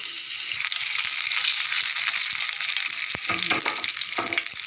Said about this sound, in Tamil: ரெண்டு ஸ்பூன் எண்ணெய் விட்டுருக்கேன் தாளிப்புக்கு கடுகு உளுத்தம்பருப்பு நல்ஜீரகம் பெருஞ்சிரகம் ஒரு வரமிளகாய்